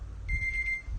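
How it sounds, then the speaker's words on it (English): A comic book auction timer gives one steady electronic beep lasting about half a second. It is fairly faint over a low background rumble. "Now it beeped."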